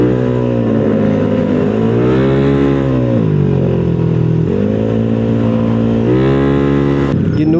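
A Yamaha Mio scooter engine revs loudly and continuously, pitch rising and falling in several surges, close by, with a sharp clack near the end.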